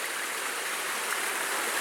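Creek water rushes over rocks along a river portage in Alaska, a dense, steady broadband hiss that stays close and continuous with no voices.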